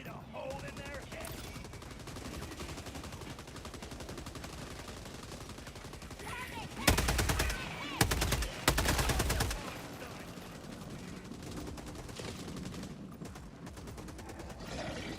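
Gunfire from the Helldivers 2 video game bursts out in a few loud rapid volleys lasting a couple of seconds, over a steady din of game noise and background action.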